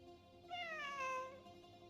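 A single cat meows once, a drawn-out rising and falling cry lasting close to a second, heard fairly near over quiet background.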